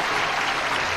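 Audience applause greeting twelve child performers at a televised Indian singing competition, a dense, steady clapping that fills the whole moment at an even, fairly loud level.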